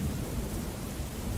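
Steady heavy rain with a deep rumble like thunder, a continuous broadband wash that stays constant and fairly loud throughout, with no voices.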